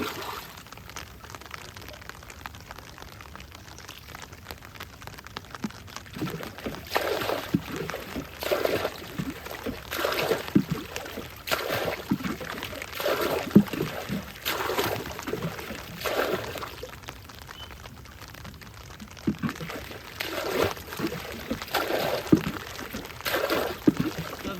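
Water bailed out of a rain-soaked rowboat, with repeated scooping splashes and pours coming in rhythmic bursts from about six seconds on, close and moderately loud over a quiet outdoor background.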